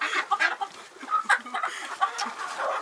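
Chickens cluck close by in a farmyard, with a busy run of overlapping short clucks and squawks in an uneven rhythm.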